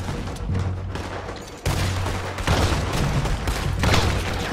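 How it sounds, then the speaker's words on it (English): Gunfire in the video game Red Dead Redemption 2 in a shootout, with sharp shotgun blasts breaking through a dense, noisy stream of shots and booms that swells and dips in loudness. "Shotgun headshot, wah hilang kepalanya guys."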